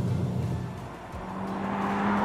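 A Ferrari Roma sports car drives on an open road, its engine a steady, close drone that swells slightly, with constant road and wind rush beneath it.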